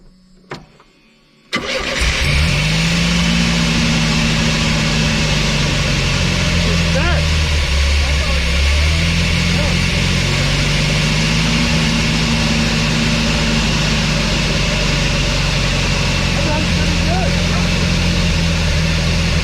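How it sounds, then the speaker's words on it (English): A junkyard Chevy S10 engine on fresh gas cranks and catches after a brief quiet moment, then runs loudly and continuously nearby with a rough, wavering drone. "Some fresh gas in it, and it's kind of running."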